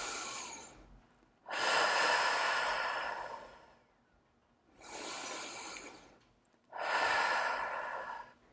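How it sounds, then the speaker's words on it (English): Three long, deep exhalations blown out through the mouth, each a broad rushing breath lasting over a second, separated by quieter inhales; close and clear with no talking. "take a deep breath, blow the air out of your mouth"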